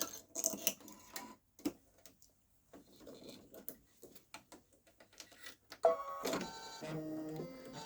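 Babylock Solaris 3 (Vision) embroidery machine stitching loop designs, with faint intermittent mechanical ticking and tapping, stopping briefly before a louder, steadier run of rapid needle chatter and hum near the end.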